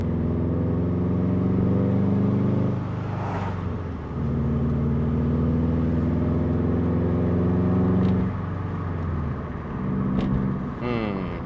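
A manual car with a notchy gearbox and new transmission cross member bushings drives along, its engine humming steadily with rises and dips as it shifts and revs, heard from inside the cabin.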